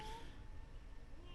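A cat meows in a movie scene from the horror film The Vampire Bat, a faint, drawn-out plaintive cry heard quietly over a low background.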